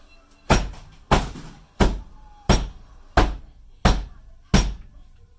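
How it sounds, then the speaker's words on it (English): A soap mold filled with oat milk and rose soap batter is banged on the floor seven times, producing heavy, evenly spaced dull thuds about every two-thirds of a second, close and alone with no talking. "I'm going to go ahead and bang this down on the floor."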